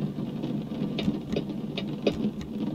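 Steady rain patters through the cab of a truck in American Truck Simulator on the drive from Fort Collins to Denver, Colorado, a constant moderate wash with faint soft ticks scattered across it.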